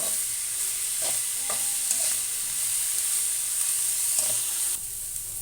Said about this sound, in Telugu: ఫ్రెండ్స్ ఉల్లిపాయలు వేగాయి కదా